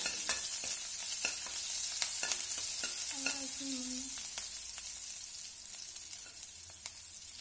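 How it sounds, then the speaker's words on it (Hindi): Curry leaves and green chillies spit and sizzle in hot oil, with sharp sporadic pops over a steady frying hiss as they are stirred, close and clear with no talking. "अब हम इसमें थोड़ा सा कड़ी पत्ता डालेंगे दोस्तों, और हम इसमें थोड़ी सी हरी मिर्च भी डालेंगे दोस्तों, और हम इसको थोड़ा सा हिला देंगे"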